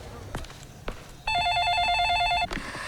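An old-style telephone bell rings in one sustained trilling burst, loud and near, with faint movement sounds before and after.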